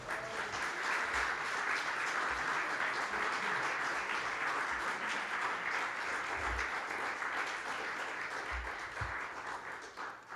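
Congregation at a church service applauding, a sustained, fairly distant roll of many hands with occasional low thumps beneath, continuing steadily for about ten seconds.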